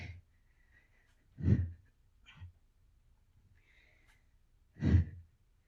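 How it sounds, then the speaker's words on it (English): Heavy exhaled breaths during a power yoga workout, three distinct sighing puffs, two loud and one softer, separated by near silence. "You should be breathing this heavy too."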